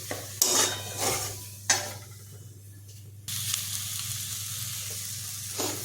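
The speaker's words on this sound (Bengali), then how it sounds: "মোচাটা দিয়ে ভালো করে কষাবো।" Banana flower is stir-fried dry in a pan with no water added. Sharp spatula scrapes come in a few distinct bursts over a soft sizzle, then give way to a louder, steady frying hiss.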